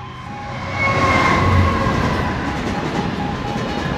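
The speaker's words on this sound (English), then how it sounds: "The train now approaching platform 2 does not stop here." Class 66 locomotive 66503 rumbling through Hykeham station on a non-stop pass, a loud, close, sustained roar of engine and wheels with a steady rail rumble, no talk.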